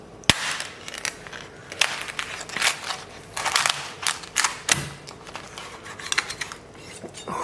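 A knife cuts into crispy glass pork belly, with close, sharp crackling and crunching of the brittle skin in irregular bursts, including one loud snap near the start, and no talk.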